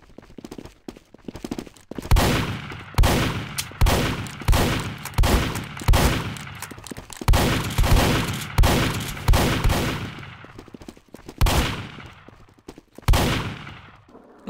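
Team Fortress 2 shotgun fire in a busy match: repeated loud blasts in a steady rapid rhythm, each with a short decaying tail, continuing for about ten seconds, then a couple of spaced final shots.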